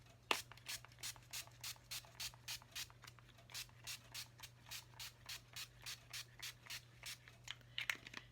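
NYX Dewy Finish makeup setting spray is pumped in a steady run of about two dozen short, even hissing bursts, close and fairly quiet, with no talking.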